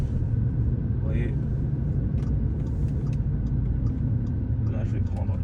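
An Audi A3 S-line Sportback rolls slowly into a dealership car park, a low steady engine and road rumble heard from inside the cabin while a person talks over it.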